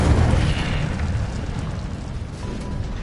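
In Hogwarts Legacy, an Incendio fire spell goes off with a loud, close roaring whoosh and deep rumble that swells at once and then slowly dies away.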